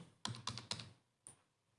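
A computer keyboard clacks three times in quick succession, then once more after a short pause, crisp and close while entering an Excel formula.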